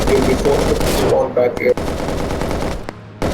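Machine gun firing in Operation: Harsh Doorstop during a desert US–Soviet battle, a loud continuous roar of automatic fire that cuts off briefly, resumes, then drops away near the end.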